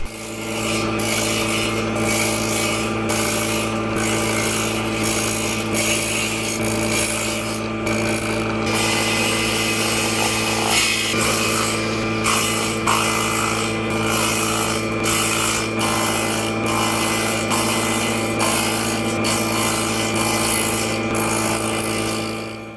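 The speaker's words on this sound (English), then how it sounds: "I am making slots in long frame pieces for those small pieces" A continuous power tool drones while cutting slots into long wooden frame pieces, with repeated short rasping strokes and brief gaps in a steady working rhythm.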